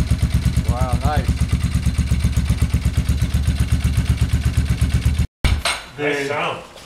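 A Kawasaki ZX-9R motorcycle idles nearby with a rapid, regular engine pulse for about five seconds before cutting off abruptly, followed by a short voice and some handling noise.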